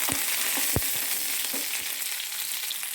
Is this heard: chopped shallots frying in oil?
yes